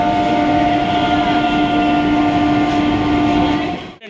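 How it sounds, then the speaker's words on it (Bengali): Loud, steady train noise at Naihati Junction station, with a sustained horn-like tonal drone and rumbling rail sound running continuously before cutting off abruptly near the end. "এখন আমরা আছি নৈহাটি জংশনে"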